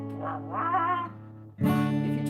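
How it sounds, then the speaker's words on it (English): A person singing through a trombone, giving a buzzy, brassy, voice-like tone that wavers in pitch over one phrase, then a louder, rougher second burst after a brief dip. "you can't sing with a trombone. Well, you can, but it sounds like this."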